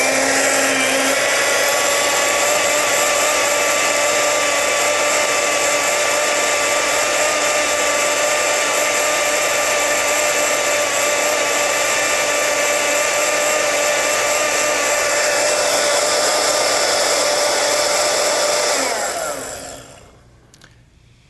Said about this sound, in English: Now I'm going to blend it for a little while.